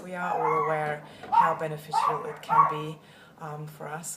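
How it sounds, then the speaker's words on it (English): Neighbouring dogs bark faintly in the background while someone speaks calmly over them, the short yips and barks mostly buried under her voice. "I'm sorry about the dogs next door."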